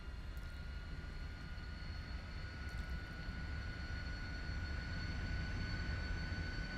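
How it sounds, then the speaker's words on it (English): Lockheed T-33 jet engine in Microsoft Flight Simulator, a steady faint roar with high whining tones that holds constant and swells slightly as it accelerates, heard alone. "Love the sounds. Sound profile of the engine is really nice here."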